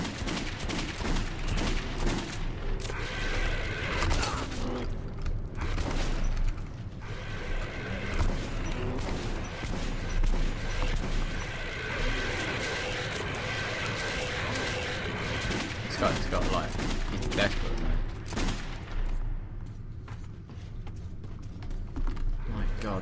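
Gunfire from Metro 2033 Redux echoes through dark tunnels in a dense, continuous barrage of shots layered over heavy rumble and mechanical clatter, with a brief lull toward the end.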